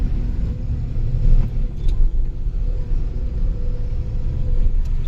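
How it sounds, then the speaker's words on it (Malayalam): A self-loading concrete mixer machine churns concrete on a building site, giving a steady, loud low engine rumble and drum drone that continues throughout without pause. "ഇപ്പോൾ കോൺക്രീറ്റ് കുഴച്ചുകൊണ്ടിരിക്കുകയാണ് മൂപ്പർ"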